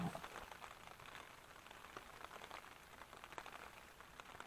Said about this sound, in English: You can really see the rain coming down off in the distance.